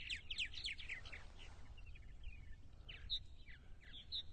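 Purple martins call on Eastern Long Island, New York, in a rapid run of high chirps and gurgling twitters early on, then scattered single calls, distant and soft over a low steady outdoor rumble.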